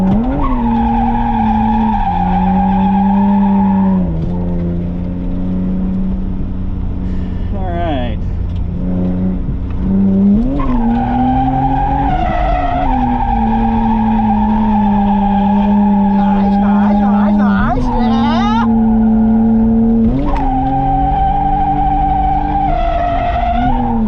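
A drift car skids through a long slide, its tires squealing loudly over a revving engine, with the pitch rising and falling through several passes and people talking throughout.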